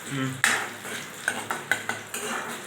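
Soya being stirred and roasted in a pan, with a few separate scraping clicks of a spoon against the pan over a soft sizzling background, close and fairly quiet.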